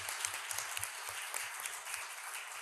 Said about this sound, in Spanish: Un aplauso, por favor, a este distinguido panel.